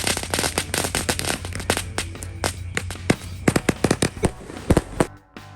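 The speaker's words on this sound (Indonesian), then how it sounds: "kita awali tahun baru dengan menyalakan 2 Basoka Roman candle" Two Basoka Roman candles fire on New Year's Eve in a rapid, loud, overlapping volley of launch pops and bursts that thins into scattered single shots before stopping.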